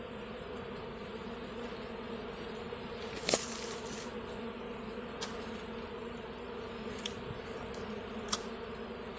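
A swarm of honeybees drones steadily as it moves into a hive in August, a continuous soft buzzing hum with a few faint clicks and knocks scattered throughout.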